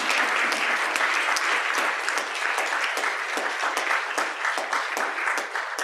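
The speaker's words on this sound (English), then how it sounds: "In the absence of Tony, can we give a little round of applause for Mr. Rick Bangs" At a hybrid medical research group meeting, a room applauds to honor a colleague, with continuous dense clapping that stays fairly loud throughout.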